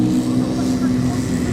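A blue Porsche 911 Turbo fitted with a non-original aftermarket exhaust gives a steady, loud engine drone, heard up close, with a strong low hum and people talking over it.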